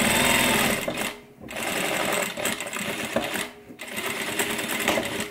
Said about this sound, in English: Now make sure you don't sew your panel. You're only wanting to sew your pocket.